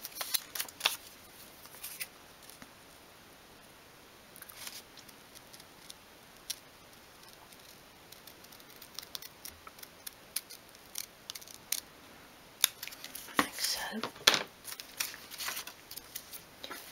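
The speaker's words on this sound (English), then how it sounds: "I'm just going to cut that out." Scissors snip through folded paper being cut out for a 1/12 scale miniature single bed, a run of crisp close cuts that grows busier and louder toward the end, with no voices.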